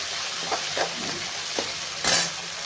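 Oil sizzles under a pan of potato and cauliflower curry as tomatoes go in, with a few soft stirring scrapes and a brighter hiss burst near the end, close and moderate.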